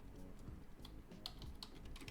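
Fingers tap out a name on a computer keyboard, giving a quick, quiet run of clicking keystrokes with a few louder key hits and no voices.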